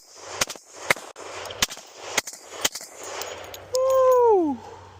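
An airsoft Glock 20 fitted with an FRT fires through a magazine in a string of sharp, loud cracks at an uneven, rapid pace, followed by a clear whistling tone that bends downward at the end.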